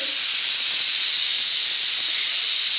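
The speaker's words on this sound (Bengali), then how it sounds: "দেখো এটা করে আমার সিটি বাজছে" A pressure cooker lets off its whistle in a continuous loud, close hiss of escaping steam that holds steady throughout with no talk.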